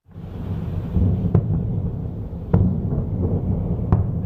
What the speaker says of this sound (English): Israel launched extensive airstrikes on Beirut's southern suburbs